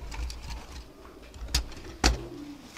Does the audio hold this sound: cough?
no